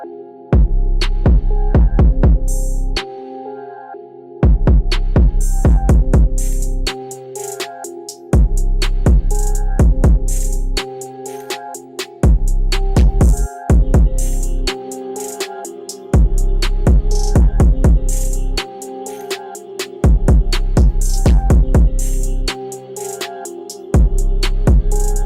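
Electric hair clippers fitted with a number one guard, lever open, cut hair in a loud close buzz that starts and stops repeatedly in bursts of a few seconds each.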